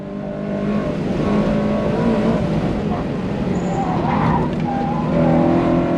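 A race car drives hard around the hilly Pineview Run long course on a track day, its engine droning loudly and steadily from inside the cockpit with tyres scrubbing through corners.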